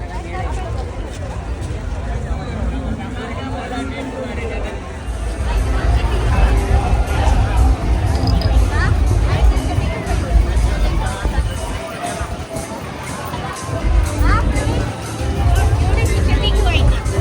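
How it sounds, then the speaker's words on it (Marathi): A busy night crowd at Calangute beach market in Goa, with a steady babble of many voices and passing vehicles, and a nearby person talking over the hubbub. "रात्रीची किती गर्दी आहे"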